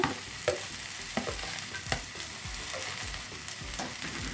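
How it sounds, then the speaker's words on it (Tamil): Okra sizzles and crackles steadily in hot oil, with occasional louder pops and stirring scrapes throughout. "இது ரெண்டையுமே போட்டு அந்த எண்ணெயில் நல்லா வதக்கி எடுத்துடலாம்"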